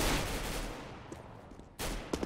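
Burst of gunfire in CS:GO, a loud opening volley that fades, then a second sharp crack of shots near the end, close and punchy with no talk over it.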